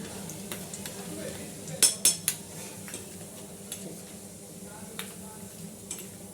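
Roasted chickpeas (daliya) are stirred in a pan as they brown, with a few sharp spoon-on-metal clinks and soft scraping over a low background hum.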